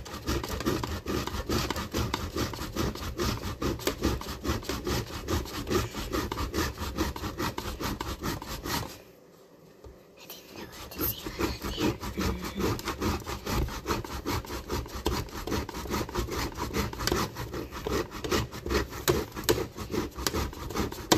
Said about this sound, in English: So now I'm going to just grate on this side of the grater so you can see.